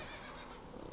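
A horse in The Witcher 3 video game neighs loudly, a whinny heard close up with faint hoof clatter beneath and no talk.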